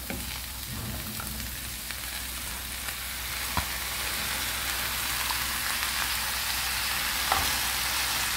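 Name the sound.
onion and spinach frying in a pan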